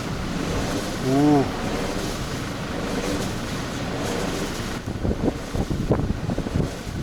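Steady roaring wind gusts buffet the microphone at a snowy 1200 m winter campsite, with a faint whooshing sound from an unseen spinning wind turbine and brief voices and exclamations mixed in.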